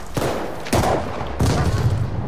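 Heavy gunfire in the Call of Duty: Vanguard campaign, a dense, loud rattle of overlapping shots with three sharp onsets standing out over a steady wash of battle noise, with no talking.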